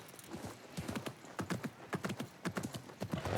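Horse hooves clip-clopping steadily in Assassin's Creed Mirage, a quick repeating rhythm of close, distinct footfalls with a faint whinny-like tone, no talking.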